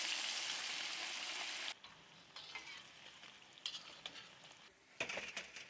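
Fish bone pieces deep-frying in hot oil until crisp: a steady loud sizzle for the first couple of seconds, then quieter bubbling with intermittent pops and crackles, with no voices.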